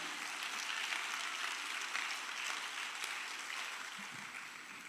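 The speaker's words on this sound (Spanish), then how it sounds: "Denle un aplauso al Señor, hermano." A church congregation claps together in sustained, dense applause that holds steady for several seconds and fades slightly toward the end.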